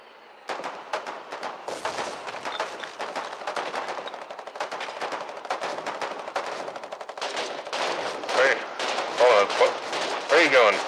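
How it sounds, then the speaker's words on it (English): Warden field machine guns firing in the war game Foxhole, a dense, continuous rattle of rapid automatic bursts that grows heavier toward the end, with someone talking over the gunfire. "Three Warden field machine guns now operating here."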